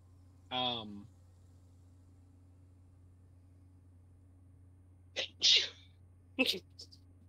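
Quiet room with low hum where a brief voiced sound opens, then after a long lull come two separate sneezes, each a short sharp burst, close by.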